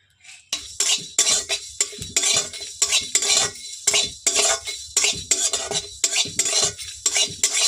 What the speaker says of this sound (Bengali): নাড়াচাড়া করে এটাও ভেজে নেব